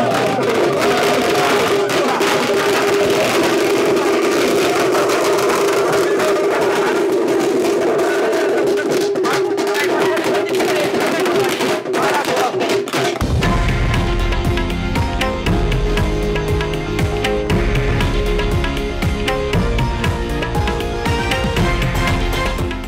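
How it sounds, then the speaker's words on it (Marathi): A large Maratha community crowd celebrates in Solapur, a dense, loud roar of many voices with chanting. Partway through, heavy low drumming and music take over and run on continuously. "मराठा समाजाकडून जो आहे तो जल्लोष"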